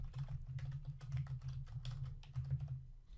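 Fingers tap out a short phrase on a computer keyboard, a quick, irregular run of soft, close clicks over a low background hum.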